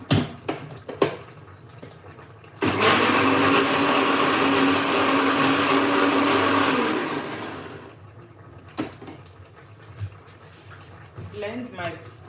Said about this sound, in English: So I want to blend my pepper and onion.